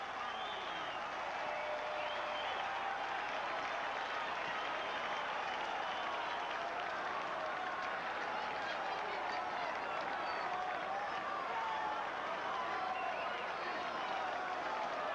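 A packed Fenway Park crowd cheers and applauds for Nomar Garciaparra as he steps in against the Mariners at the 1998 Red Sox home opener, a dense, steady roar of clapping that holds loud and unbroken throughout.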